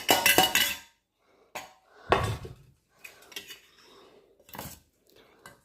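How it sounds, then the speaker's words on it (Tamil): Spiced country chicken mixed in a vessel, a few separate clattering bursts of metal on metal with short scrapes and quiet gaps between them, close and alone. "இந்த கறியை வந்து நல்லா மிக்ஸ் பண்ணணும்"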